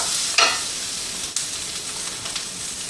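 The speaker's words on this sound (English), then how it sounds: "my onions and peppers are just starting to brown." Onions and peppers frying and starting to brown in a pan, a steady close hiss and crackle with a couple of sharper bursts as they're moved.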